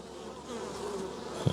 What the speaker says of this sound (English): the bees are all around the outside doing their thing